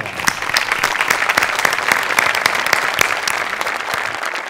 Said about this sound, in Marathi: तुझ्यासाठी उभं राहून टाळ्या.